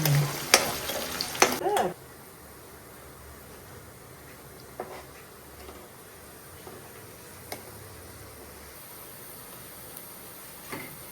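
Ingredients frying in a pan for a field bean curry, a soft constant sizzle with a few sharp stirring scrapes early on and occasional light clinks, heard close with no talk.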